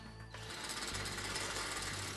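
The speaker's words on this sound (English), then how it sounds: "using our 3/8 drill bit, we're going to drill all the way through our armrest" A power drill with a 3/8 bit whirs steadily and loudly, its tone dropping slightly as the bit bites through a golf cart seat armrest, continuous for a couple of seconds.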